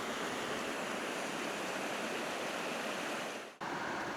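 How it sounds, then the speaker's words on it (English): A waterfall on a forest trail rushes steadily, a broad, even wash of falling water heard close and loud with no voices. "enjoying the sound of the running water"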